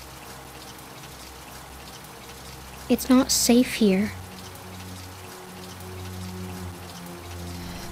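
Steady rain falls through a dark outdoor scene, a soft constant wash in the background while a voice speaks briefly over it midway.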